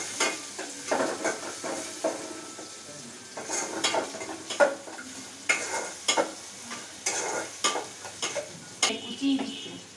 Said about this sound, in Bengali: পেঁয়াজ কুচি, রসুন কুচি, আদা কুচি দিয়ে ভালোভাবে নাড়তে হবে।